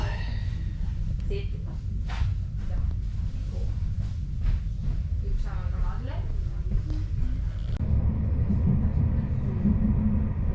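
A low, constant rumble and rattle from inside a moving train carriage in Helsinki, Finland, with muffled voices and clatter over it; the tone shifts near the end.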